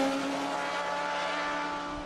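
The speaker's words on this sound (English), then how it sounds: "an exhaust system that is pure beauty to both the eyes and the ears" Exhaust of an MV Agusta F4 motorcycle sounds as a steady, loud, dense engine roar with a strong tonal hum, held at an even level throughout with no talk.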